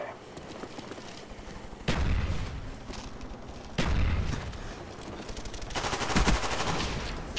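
Akimbo Skorpion submachine guns in Black Ops fire in dense, rapid bursts over continuous battlefield noise, with heavy booming impacts at intervals and a louder sustained volley near the end.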